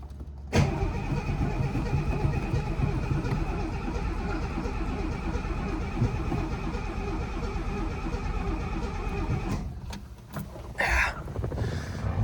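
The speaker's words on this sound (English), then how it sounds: "I already been trying, but I can't get it. Just cranking." A 1971 Mercedes 250c with suspect carburettors cranks without firing, the starter churning in a long, even rhythmic whir that stops abruptly near the end, followed by a few brief clicks and rattles.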